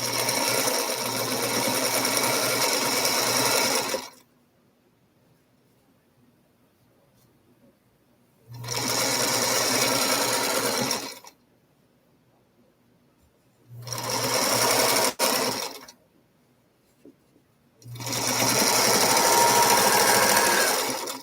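A sewing machine stitches quilt pieces in four loud, steady whirring bursts of a few seconds each, separated by near-silent pauses, close up and with no talk over it.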